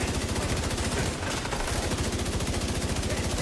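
Automatic gunfire in The Division 2 rattles in a fast, even stream of close, loud shots that continue without a break for the whole few seconds.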